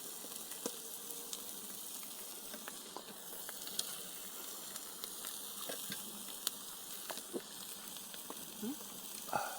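Meat fries in a pan at dinner at a campsite in France, a faint, steady hiss and sizzle with occasional soft pops and a few quiet voices.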